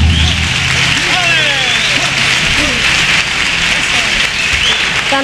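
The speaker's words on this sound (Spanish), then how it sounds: "cuplé con su estribillo aplaudido por el público del Gran Teatro España" A theatre audience at the Gran Teatro of the Cádiz Carnival applauds a comparsa from Huelva, a continuous roar of clapping that fills the hall after the last sung notes fade.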